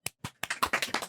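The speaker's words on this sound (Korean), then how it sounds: "윤석열 재구속 박수!" A handful of separate, sharp claps close by, the first few spaced apart and then quickening into a short uneven burst that lasts about a second, with no voices.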